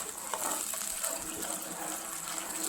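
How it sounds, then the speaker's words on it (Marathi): Water pours steadily into a pan of melted biscuit halwa mixture, a soft continuous gushing splash heard alone and close for a few seconds. "मी पाणी टाकलं"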